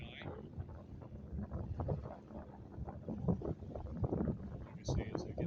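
Strong outdoor wind at a drag racing event buffets the microphone with a steady low roar and rougher gusts throughout, while muffled voices sit faintly underneath.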